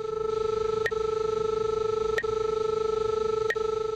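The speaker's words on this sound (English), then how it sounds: "you'll hear a pinging tone along with the normal audio" An SR-20 line tracing receiver gives a steady, loud electronic tone broken by three evenly spaced pings about 1.3 seconds apart, with no voices.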